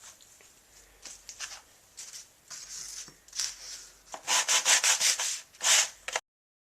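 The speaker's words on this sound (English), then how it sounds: "We're going to start on the inside to see how sandpaper looks on the aluminum when I get done" Sandpaper rubbed by hand on an aluminum rudder fitting from a Sunfish sailing dinghy, short scratchy back-and-forth strokes that start soft and grow louder and quicker, close up, ending in silence.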